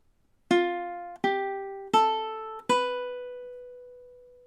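Four plucked ukulele notes in a slow, evenly spaced scale, each bright and close with a ringing decay, the last one left to sustain and fade alone.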